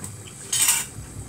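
A metal spoon clinks sharply against a dish as it is picked up while cooking chicken breast meatballs, one bright clatter in a quiet kitchen, followed by faint low handling noise.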